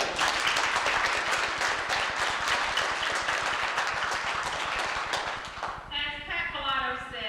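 Round of applause for volunteer staff, a steady rhythmic patter of many hands clapping close by, fading at the end as a voice begins speaking.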